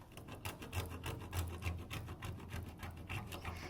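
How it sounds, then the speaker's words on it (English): Crayons in green, black and blue are scraped against a kitchen cheese grater, giving a steady, close rasping with quick repeated strokes and no talking. "just grab your cheese grater, grab the crayons and the colors that you think you want to use"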